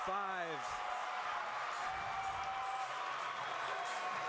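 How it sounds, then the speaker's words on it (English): An indoor crowd at a BYU at SUU gymnastics meet cheers and roars steadily for a posted score, a broad sustained wash of noise that follows a brief spoken voice at the start. "the crowd making some noise for the score"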